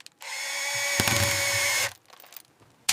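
A power drill tightens a screw on a yacht being restored after fire damage, whirring steadily and loud for over a second and a half with a low motor hum, then cutting off, followed by faint handling clicks.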